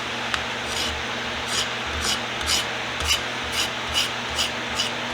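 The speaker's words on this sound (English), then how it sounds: "First I'm going to scrape the handle." Rhythmic rasping scrapes on the dirty, lightly varnished wooden handle of an old hand tool, about ten strokes repeating roughly every half second, close and steady over a low background hum.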